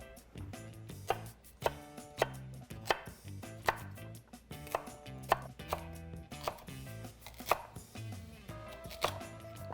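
A knife chopping carrots, leeks, onions and fennel on a board, a series of sharp, evenly spaced thunks about one per second, close and clear, with no talking.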